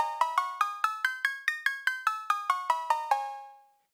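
Piano notes triggered from a computer keyboard and locked to a scale, a run of about fifteen evenly spaced plucked notes climbing and then descending, with the last note decaying into silence.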